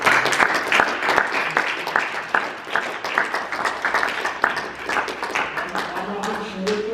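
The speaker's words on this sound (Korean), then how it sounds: "박수 한번 주시죠" A church audience gives warm applause at a pastors' association gathering, dense steady clapping from many hands that carries on for several seconds, with some faint voices mixed in underneath.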